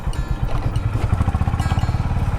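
A motorcycle engine putters close by on a rough road near Thanagazi Fort, Rajasthan, in a fast, rhythmic pulse that grows steadier toward the end.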